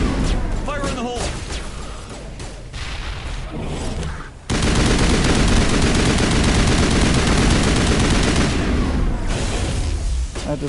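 Gunfire crackles in a Mass Effect video game battle, then a grenade blast sets off a loud, sustained roar of explosion and heavy shooting that fills the rest of the stretch.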